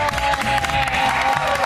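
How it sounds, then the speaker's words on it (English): Studio audience applause and some cheering for actor Tom Shalhoub on a morning television show, a thick wash of clapping blended with steady background music, loud and continuous. "How about a round of applause for Tom Shalhoub?"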